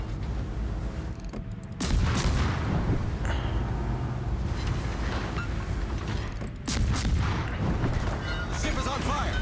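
Naval guns boom in World of Warships gameplay, with heavy artillery blasts and impact rumbles layered over continuous loud battle noise and engine drone.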